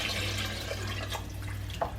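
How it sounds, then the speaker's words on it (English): Water runs steadily into a cooking pot for nettle soup in a home kitchen, a soft continuous trickle with faint drips and clinks, no voices. "And then I'm going to add just over 1/2 litre of water as well"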